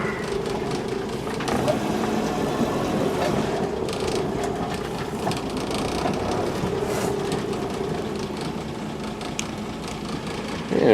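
A Dodge Seneca truck engine with no choke, running cold, producing a loud, continuous mechanical rumble with rattling overtones that holds steady from start to finish.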